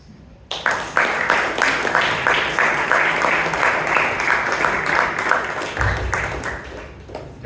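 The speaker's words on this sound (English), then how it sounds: "Can we have a huge round of applause to our timer?" A Toastmasters meeting audience in Bangalore breaks into a loud, sustained round of applause for the timer, dense clapping starting abruptly and holding steady for several seconds before tapering slightly.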